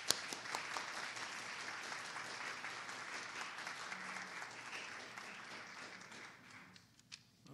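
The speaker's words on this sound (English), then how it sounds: "Let's give a warm round of applause to Mr." A steady round of applause from an audience welcomes George Evans before his talk on restoring the Statue of Liberty, a broad even wash of many hands clapping that continues for over seven seconds before thinning at the end.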